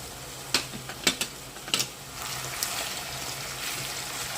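Meat browning in a pan for a pasta dish gives a few sharp clinks and stirring knocks at first, then settles into a steady, close crackling sizzle.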